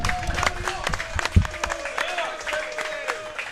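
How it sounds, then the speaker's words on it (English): An audience at a high school varsity sports podcast recorded live at a hobby shop breaks into a steady burst of clapping and cheering, dense and sustained, with voices mixed into the crowd noise. "a big round of applause, everybody."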